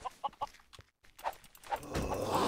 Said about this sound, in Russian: О, курицу слышу.